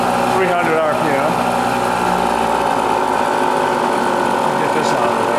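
Bridgeport Series II vertical milling machine runs at about 300 RPM, a steady close mechanical whine and hum with faint clatter, while a person talks over it.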